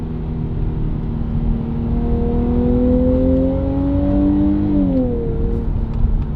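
A Nissan Z engine revving in second gear in manual mode, a steady rising whine that climbs in pitch for several seconds, then drops sharply as the revs fall, heard from inside the cabin with no talk.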